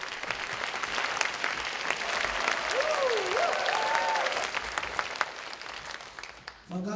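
Concert audience clapping loudly and enthusiastically as a children's band from Malawi takes the stage, a steady dense wash of applause with a brief whistle-like tone through the middle, ending in a sudden drop.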